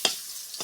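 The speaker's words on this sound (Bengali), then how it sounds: "ফুলকপি যেগুলো আমি সিদ্ধ করে রেখেছি, হালকা সিদ্ধ করে রেখেছি, ওগুলোও ভেজে নেব" Lightly boiled winter cauliflower fries with a little onion in a pan, giving a brief, close sizzle broken by two quick stirring scrapes.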